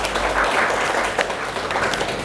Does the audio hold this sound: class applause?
yes